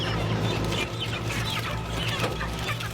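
Dense, continuous clucking from many chickens packed together during mechanical poultry catching, with a steady low machine rumble running underneath throughout.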